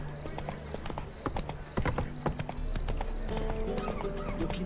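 Horse hooves clip-clop steadily at a walking pace in The Witcher 3 video game, close and moderately loud over a faint ambient background, with no talking.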